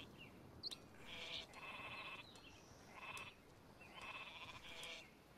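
Sheep in the strategy game Northgard bleat three times, in drawn-out nasal cries spaced a second or so apart, faint and with no talk over them.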